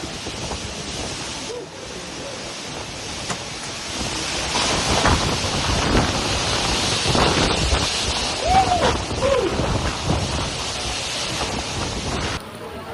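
A tornado with heavy rain sweeps through a village in Bangkalan, Madura, East Java, producing a loud, steady roar of gusting wind and rain that buffets the microphone continuously, with a brief dip and a few louder surges.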